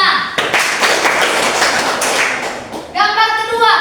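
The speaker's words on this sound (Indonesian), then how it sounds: "Oke, baik, tepuk tangan." Schoolchildren in a classroom clap their hands together in a quick burst of close claps, with a voice joining near the end.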